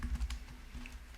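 Fingers type a name on a computer keyboard, a quick, close run of light key clicks over a brief quiet moment.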